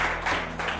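Studio audience applause on a Brazilian late-night talk show, a dense steady wash of clapping filling the whole short moment at moderate level, with no voices over it.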